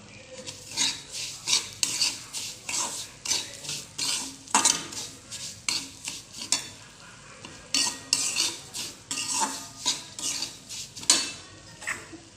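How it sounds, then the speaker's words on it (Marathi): Cashews and almonds roasting in ghee for a Satyanarayan puja prasad, loud rhythmic clinks and scrapes of a spoon stirring a metal pan over a light sizzle, repeating steadily throughout with no talking. "आता मी त्याच्यामध्ये टाकणार आहे काजू, बदाम, तुपामध्ये भाजले जाईल"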